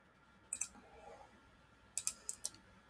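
Crisp, close computer mouse clicks, one quick pair and then a cluster of three or four rapid clicks, over a quiet room hum with no talking.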